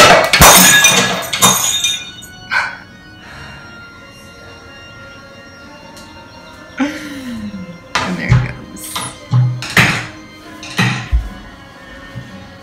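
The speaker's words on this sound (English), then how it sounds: "my studio then is filled with turpentine and there's broken glass everywhere" Glass shatters in an artist's painting studio where turpentine is in use: a loud crash at the start, followed by a string of sharp clinks, tinkles and smaller breaking impacts scattered over several seconds.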